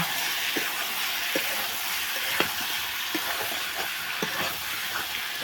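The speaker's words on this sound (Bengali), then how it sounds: "আলুখিনি ইয়াতে ধুনীয়াকৈ মিক্স কৰিম" Potatoes are stirred into chicken curry frying in a pan, with a steady sizzle and scattered scraping clicks from the spoon at close range.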